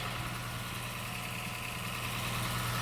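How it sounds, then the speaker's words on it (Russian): A Honda Shuttle car engine idles steadily after an oil change, with a low, even rumble and a constant hum, no voices over it. "Ну, движочек заебись работает."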